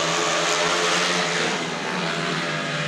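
Speedway motorcycles roar around the track at the 2010 Romanek Memorial meeting, a continuous loud, droning engine whine holding steady with a slight dip midway and no talk.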